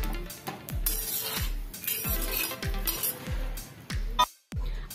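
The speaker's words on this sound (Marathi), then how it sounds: "त्याच्यावरती थोडंसं तेल घालूया आणि दोन्ही बाजूंनी छान तेलावरती खमंग असा भाजून घेऊया" A lauki (bottle gourd) paratha roasts in oil in a pan, frying on both sides. It gives a steady close sizzle, with a regular run of soft thumps and metallic clinks from a spatula pressing and turning, and no voice.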